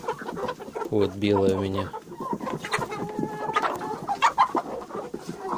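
A young broody hen of this year's pullets sits in her nest, giving a loud, close run of low, rhythmic clucks early on, with a person talking nearby before and after.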